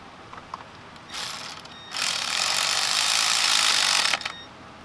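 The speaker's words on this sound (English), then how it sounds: "I'm going to go ahead and hit it with my electric ratchet slowly so it stops" A Mercury Grand Marquis spark plug is driven in with an electric ratchet: a short whirring burst, then a longer steady mechanical buzz lasting a couple of seconds before it stops, close and fairly loud.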